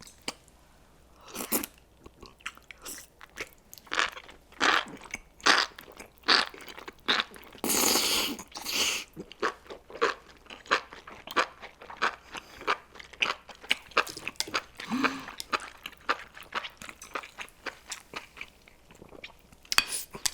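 Crunchy spicy buldak enoki mushrooms being eaten up close, with repeated crisp bites and wet chewing in an uneven rhythm, plus a few light utensil clinks, quiet and intimate.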